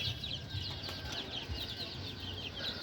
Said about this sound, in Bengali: তো এই হচ্ছে খাবার দাবার খাচ্ছে।